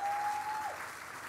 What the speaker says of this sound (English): Please let's give all my team an enormous round of applause.